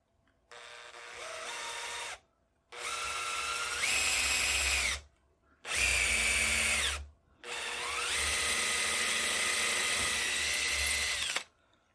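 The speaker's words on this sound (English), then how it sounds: "Then I can drill it out." Power drill boring out a screw hole for the butt plate in a Kar 98 rifle stock, whining in four close bursts of steady drilling with brief pauses between them.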